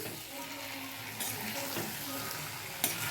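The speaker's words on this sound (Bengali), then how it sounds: "দেখতেই পাচ্ছেন মশলাটার সঙ্গে খুব ভালোভাবে ইঁচড়টাকে ভাজতে হবে" Young jackfruit fries in spices in a pan, giving a steady, soft sizzle with occasional stirring scrapes and one sharp clink near the end.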